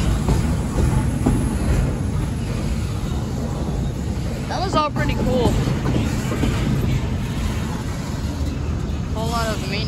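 A CSX manifest freight train rolls past close by with a continuous heavy rumble, rail clatter and brief wheel squeals, one car noted as leaking air; a person speaks briefly over the noise.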